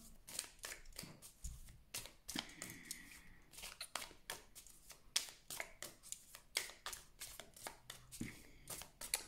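A deck of tarot-style cards is cut and handled, giving a run of crisp, close papery slaps and riffles in irregular bursts with brief pauses between.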